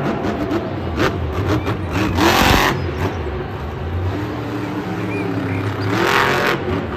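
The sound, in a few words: monster truck engine revving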